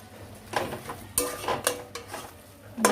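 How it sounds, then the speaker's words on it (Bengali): Bethua greens stirred in a pan over low flame, with intermittent scraping and clanking strokes of a spoon against metal under a soft, faint sizzle, close by. "আরও একটু নেড়ে চেড়ে নিচ্ছি, ফ্লেমটা কম করে দিয়ে।"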